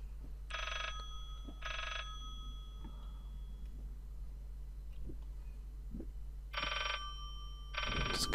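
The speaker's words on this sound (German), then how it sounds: "Das Klingeln ist hier lauter, aber ich sehe hier kein Telefon." An old-style telephone bell rings in two short pairs of bursts, separated by a long gap with faint footsteps and a low hum, in the video game Layers of Fear.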